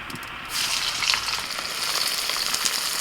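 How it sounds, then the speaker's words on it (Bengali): Sliced onions deep-frying into beresta for Bihari kabab: a loud, close, continuous sizzle that swells after a brief quieter start, with faint crackles throughout and no talking. "বেরেস্তাটা ভেজে দিই"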